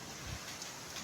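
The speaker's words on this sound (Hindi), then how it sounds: "तेज बारिश है" Heavy rain falling in a village makes a steady, even hiss that is fairly faint and lasts only a moment.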